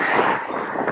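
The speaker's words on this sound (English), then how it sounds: "It's gonna be pretty windy." Wind buffeting a microphone at Myrnam Bridge, a steady low rumbling roar with fluctuating gusts, loud and close, no speech.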